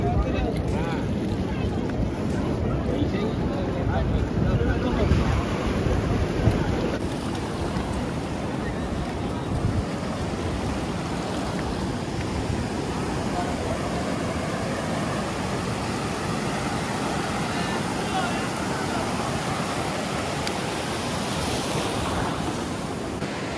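Sea waves at the Digha Mohona estuary at high tide roll in as a continuous, loud, broadband surf roar, mixed with gusting wind noise across the whole stretch.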